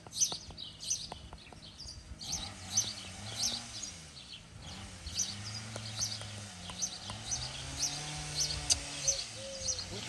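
Birds chirp outdoors in a series of short, bright tweets scattered across the clip, fairly faint, over a low droning background hum.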